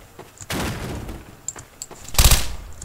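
Gunfire in Garry's Mod on a horror map: two short, loud bursts of shots about two seconds apart with a few faint clicks and thumps between them.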